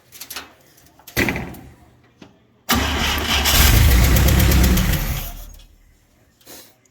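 International Scout 80 engine with no muffler, run without its fuel pump working: short bursts of cranking, then it catches and roars loud and raw for about three seconds before dying away, with a brief knock near the start.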